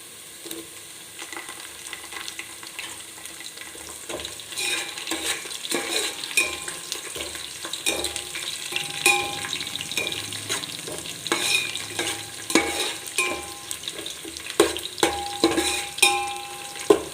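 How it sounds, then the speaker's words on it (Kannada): Green chillies frying in a pan for chicken biryani, with steady sizzling and repeated scraping, stirring clinks of a utensil against the pan growing louder and busier throughout, no voices. "ಈಗ ಹಸಿರು ಮೆಣಸಿನ್ಕಾಯಿ ಹಾಕ್ಕೊಳ್ತೀನಿ."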